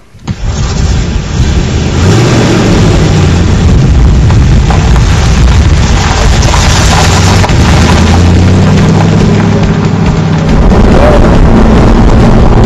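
A 1965 Corvette Stingray engine while driving, a loud, continuous, rumbling roar that rises and falls through gear changes, very close and dominant with some talk underneath.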